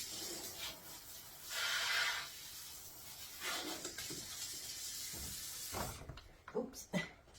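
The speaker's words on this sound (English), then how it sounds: "So, let me rinse these pork chops off." Water from a kitchen tap runs over raw pork chops as they are rinsed, a fairly quiet splashing and rubbing that swells in bursts and ends with a few sharper knocks and splashes.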